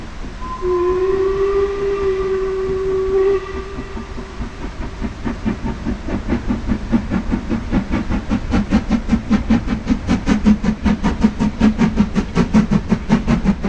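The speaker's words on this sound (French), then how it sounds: "Les touristes sont présents en masse sur la colline et attendent le passage du fameux train à vapeur, le Poudlard Express" The Jacobite steam train crossing the Glenfinnan viaduct opens with a long, loud steam whistle blast. Then the rhythmic chuffing of the locomotive builds steadily and quickens as it passes, heard from a hillside at moderate distance.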